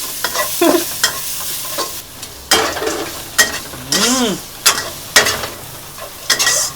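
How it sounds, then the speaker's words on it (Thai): Garlic and chili stir-fried in a pan for pork belly with chili and salt, loud sizzling with repeated scraping strokes of a spatula in an irregular rhythm, near and without talk. "นี่เราก็ผัดกระเทียมกับพริกก่อน"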